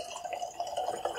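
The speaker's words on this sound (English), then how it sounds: "That's a generous pour." Blended malt whisky poured into a glass, a steady trickling and gurgling liquid stream with small dripping splashes, close and continuous throughout.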